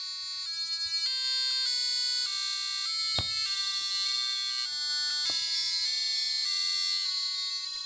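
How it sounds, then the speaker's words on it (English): Three Arduino piezo buzzers beep out Happy Birthday together in three-part polyphony, with a rhythm line, a solo melody and a bass part. The tones are bright and steady, with a couple of sharp clicks along the way. "one buzzer playing the rhythm, one doing the solo, and the other for bass. All three combined form the Happy Birthday melody with three-way polyphony"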